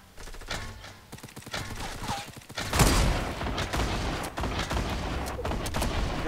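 Explosions from grenades, rockets and C4 in a shooter video game: a loud, dense roar breaks out partway through and keeps going as a rumbling barrage of blasts and crackling fire.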